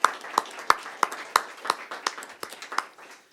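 A small group at a school board meeting claps in a sparse, uneven rhythm of about a dozen distinct hand claps over a few seconds, close and fairly quiet.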